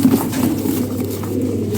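Pigeons in a Bangladeshi pigeon dealer's loft cooing softly and continuously, low rolling coos close by with faint background rustle.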